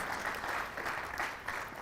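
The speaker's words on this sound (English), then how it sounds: "Let's have a round of applause." An audience at a chess tournament closing ceremony claps steadily for the volunteers, a dense wash of applause that swells and dips slightly over about two seconds.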